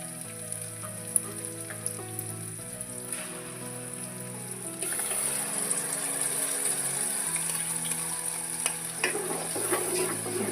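Ground masala frying and being stirred in a pan for a village-style avarekalu gravy, a soft sizzle that swells into steady loud crackling midway, with faint scraping of stirring.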